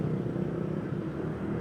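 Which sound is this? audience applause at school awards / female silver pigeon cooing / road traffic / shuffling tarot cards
road traffic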